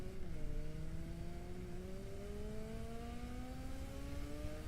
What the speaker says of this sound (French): Déjà le son de la moto est vachement bien retranscrit.